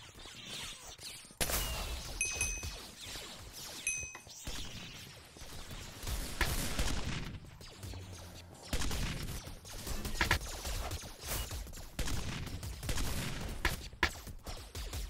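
Gunfire in Minecraft Galaxy Wars on the Hypixel server arrives as repeated sharp bursts and cracks in uneven clusters, mixed with clattering game effects at moderate loudness.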